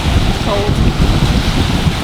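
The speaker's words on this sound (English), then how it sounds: "It's a little windy." Strong west wind buffets the microphone in a steady roar while anchored near rocks off Spain, with the wash of water and a faint murmur of activity underneath.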